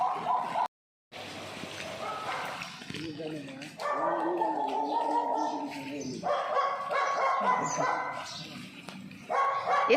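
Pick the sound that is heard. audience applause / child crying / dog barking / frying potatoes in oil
dog barking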